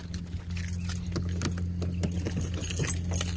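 Car keys for a 2006 Chevrolet Impala SS jangle in a series of quick metallic clinks over a low steady hum, close to the microphone.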